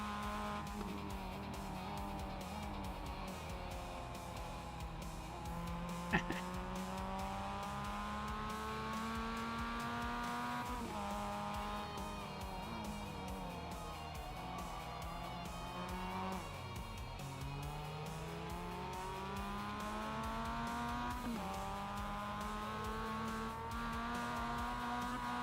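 Race car engine in the iRacing sim, a steady high-revving drone that climbs and drops through repeated gear shifts for about 25 seconds, with tire noise underneath and a brief sharp knock midway.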